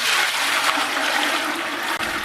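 Seven litres of water pour steadily into a vessel while brewing chocolate ginger beer with spray malt, giving a continuous close rushing splash that cuts off abruptly near the end.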